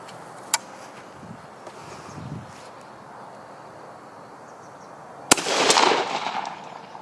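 An Adler Pardus shotgun with a 30-inch barrel and modified choke fires a single 2 3/4-inch number 4 shell, a sharp distant crack followed by a brief rumbling echo after quiet outdoor ambience and an earlier small click.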